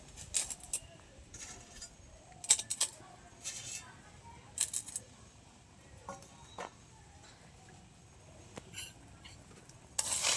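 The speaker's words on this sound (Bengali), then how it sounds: "এবারে আমি রূপোগুলো দিয়ে দেবো জলের মধ্যে।" Silver items clink and rub against a pot while stirred in detergent water, a quiet run of small metallic taps and scrapes at uneven intervals, with bursts of brighter clatter and a soft background hiss.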